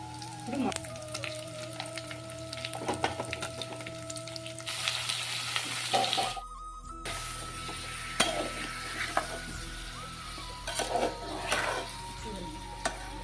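Curry leaves frying in hot oil for a spicy Rayalaseema-style chicken curry, a steady crackling sizzle with occasional sharper pops and light utensil clinks, brief louder burst as the leaves hit the oil midway.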